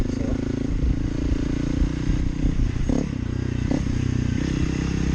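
A 2023 Honda CRF300L Rally (Non-ABS) motorcycle being ridden, its engine droning loud and steady throughout, with occasional clattering and scraping knocks over the top.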